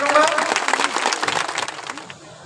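Applause welcoming the Lok Sabha Speaker at a gathering of self-reliant women: a burst of crowd clapping, loud at first and fading out over a couple of seconds, with a voice briefly heard at the start.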